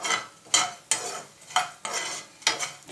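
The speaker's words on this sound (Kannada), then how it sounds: "ಲವಂಗ ಹೆಂಗೆ ಹುರಿಬೇಕು ಅಂದರೆ ಗುಂಡಿಗೆ ಚೆನ್ನಾಗಿ ಬರಬೇಕು, ಅದು ಚೆನ್ನಾಗಿ ಹುರಿಬೇಕು ಲವಂಗನ. ಇದು ಫ್ರೈ ಆಗಲಿ ಚೆನ್ನಾಗಿ." Whole cloves roasting in oil in a pan, stirred with irregular scraping strokes roughly every half second over a faint background sizzle, close and fairly quiet, with no talking.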